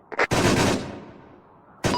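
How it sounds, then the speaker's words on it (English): Automatic weapon fire in a Medic army video game, a short loud burst of rapid shots with a decaying echo, followed by another burst starting at the end. "a game that teaches you that being sprayed by an automatic weapon only leaves you incapacitated"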